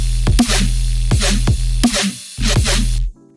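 A thick synth bass whomp pulses in a repeating rhythmic pattern, five heavy distorted swells with wobbling tone, loud and upfront for an 80s evil funk riddim-step production, then cuts off abruptly.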